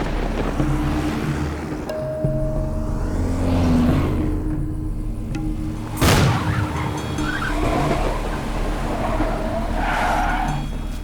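A car skids after a tire is punctured by nails scattered on the road, a loud sustained screech of tires and engine noise with a sharp burst partway through, then a rough rolling rumble, no voices.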